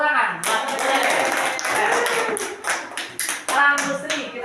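A group at an Indonesian school session claps hands, with a dense burst of clapping that turns into sharper, rhythmic claps, and some voices underneath.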